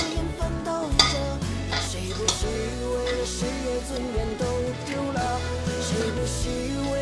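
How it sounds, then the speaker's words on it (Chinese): Food seasoned with strong baijiu and soy sauce is tossed and mixed in a bowl, giving close clinks and scrapes of utensil on dish in irregular strokes over a steady tonal background. "再给它翻拌均匀"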